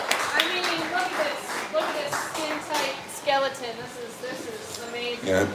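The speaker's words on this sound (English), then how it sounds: "A round of applause." Applause from an audience at a live music gig, the clapping steady and fairly close, running under a voice talking over it throughout.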